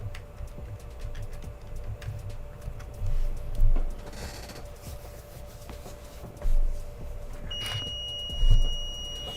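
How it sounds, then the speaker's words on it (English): An ionic foot bath machine gives a thin electronic beep against a quiet room with soft handling noises and a faint background hum. "So you hear that beep?"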